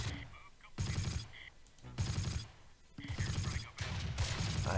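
Bursts of gunfire sound in the World War II strategy game Close Combat: The Longest Day, arriving as several loud, separate volleys of rapid shots with short gaps between them.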